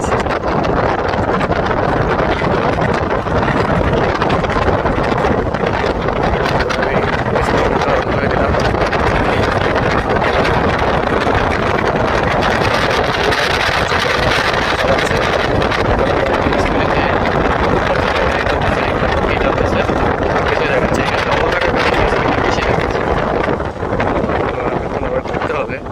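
Steady, loud wind roar buffeting the microphone while riding a Naxeon SC5 Max electric bike carrying two people in Bangladesh, a continuous rushing noise with no clear motor sound.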